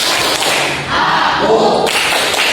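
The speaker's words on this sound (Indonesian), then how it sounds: "Tepuk konsentrasi." Children in a classroom perform a rhythmic 'concentration clap', a short run of close, crisp hand claps in a patterned beat, with little talking.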